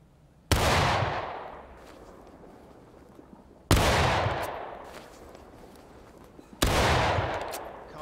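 Three separate musket volleys in War of Rights, each a sharp loud crack with a rolling decaying tail, spaced roughly three seconds apart with quiet between.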